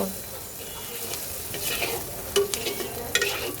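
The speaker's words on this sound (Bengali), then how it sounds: "এইবার সব কিছু একসাথে সুন্দর করে মিক্সড করে দেব" Prawn dopiaza with spices being stirred and mixed in a sizzling frying pan, a steady close scraping and sizzle with a few sharper clinks of the spoon against the pan.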